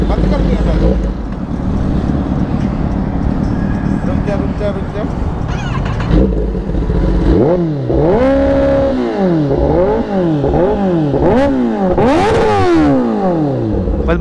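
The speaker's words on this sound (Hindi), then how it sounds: "बस बच्चे को 10R रेव करनी थी" A Kawasaki ZX10R superbike engine rumbles at idle, then revs in repeated sharp rising-and-falling bursts, loud and close, with a final high scream; people talk over it.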